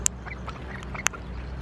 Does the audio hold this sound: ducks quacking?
yes